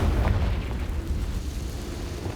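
A Confringo spell blast in Hogwarts Legacy, with a deep rumbling explosion and sustained low-end boom that fades gradually.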